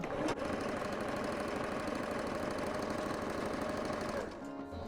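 A sewing machine runs steadily, stitching fabric for a dog bed, with a dense continuous motor whir and rapid needle chatter for over four seconds before slowing at the end; close and fairly loud, no talk.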